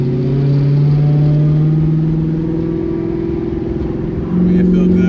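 Deep, loud 5.7L HEMI V8 engine rumble from a Dodge Charger with exhaust cutouts open, a burbling exhaust drone holding steady then briefly dipping before rising again.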